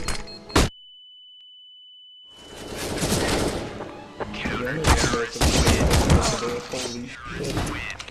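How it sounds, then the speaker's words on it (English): Counter-Strike flashbang goes off with a loud burst, then a sustained high ringing tone follows a brief silence, before dense bursts of in-game gunfire and round sounds return, loud and close. "Throwing smoke. Deploying flashbang."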